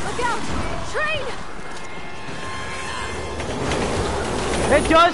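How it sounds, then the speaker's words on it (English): Train rushing past in Resident Evil 6, a steady rumbling roar with wheel squeals and brief screeches, heard over background game sounds. "You got close to a train, didn't you, by accident?"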